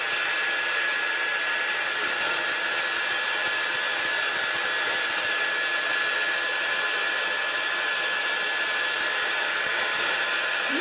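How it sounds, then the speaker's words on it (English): A heat gun blows hot air in a steady, loud, unbroken hiss that lasts the whole stretch, close by and with no speech over it. "I'm going to take the heat gun to this."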